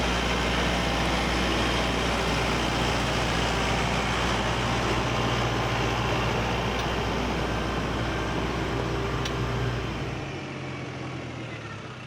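A New Holland tractor engine runs at a steady, loud drone out in a field, a constant low hum with broadband rumble that eases off slightly toward the end.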